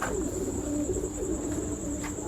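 A Taddy Salara pigeon coos softly and low over a constant high insect-like whine and steady background hiss.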